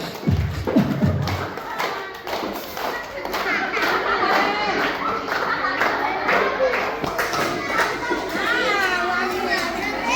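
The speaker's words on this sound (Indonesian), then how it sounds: "Tepuk tangan semuanya yuk." Young children at an Indonesian preschool and primary school clap along at a storytelling session, with brisk, scattered clapping, thumps and excited shouting from the group filling the room.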